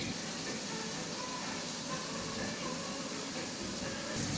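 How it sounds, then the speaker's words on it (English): Beef pieces browning in a hot pan for a beef, mushroom and onion casserole give a steady, close sizzling hiss that holds evenly throughout without pause. "the meat's still browning away there"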